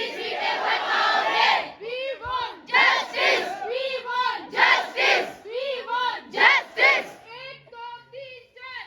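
Crowd of JBT trainees at a sit-in protest chanting slogans in unison, loud rhythmic shouted bursts rising and falling in repeated waves, close and energetic.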